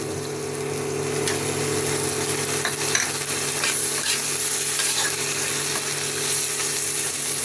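Spices with chopped tomatoes fry in a pan for chicken with green chillies, a loud, continuous close sizzle with occasional faint stirring clicks and no voices.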